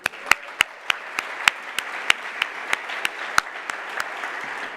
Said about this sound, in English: Let's give Tracy a round of applause.